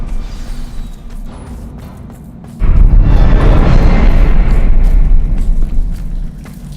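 Confringo blasting curse in the Hogwarts Legacy game, a low rumble that erupts into a loud, sustained booming blast partway through and then gradually fades.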